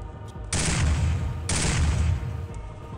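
Enemy gunfire in the game Turok 2: Seeds of Evil in a marsh: two loud bursts of rapid shots, each lasting about a second, over a steady low ambient hum.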